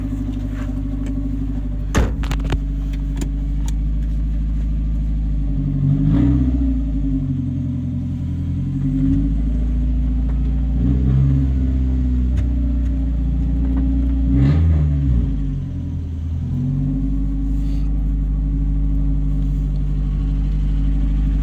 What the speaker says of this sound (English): we're driving the car right now.